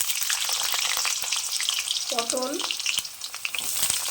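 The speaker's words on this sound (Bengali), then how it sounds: "কড়াইয়ে সর্ষের তেল গরম করে নিয়েছি, দিয়ে দেবো আলু" Potatoes fry in hot mustard oil in a wok, a steady bright sizzle running the whole time, with a brief spoken word cutting in partway through.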